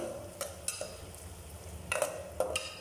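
Garlic and ginger are stirred in a cooking pan, giving a few close, light scrapes and taps of a utensil over a soft, steady background hiss. Brief and quiet, with no voices.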